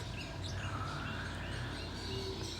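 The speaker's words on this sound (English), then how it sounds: "has little green parrots in them" Little green parrots call in a steady, dense chatter of faint chirps and tweets, layered over continuous background noise with no clear single call standing out.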